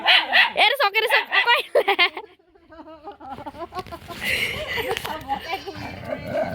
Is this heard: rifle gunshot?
no